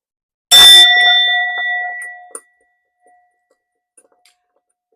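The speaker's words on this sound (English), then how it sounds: "So to start off, I'm going to ring the bell." A small hand bell rung once before a tarot reading, a bright metallic ding that rings out and decays over about two seconds, followed by a faint clink and near silence.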